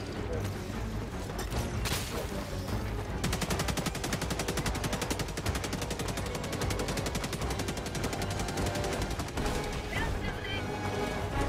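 Fully automatic gunfire in the sci-fi shooter Helldivers 2, a continuous rapid stream of shots layered with other battle noise and bangs, running nearly the whole time under a busy game mix.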